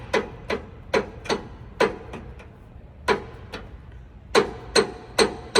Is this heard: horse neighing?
no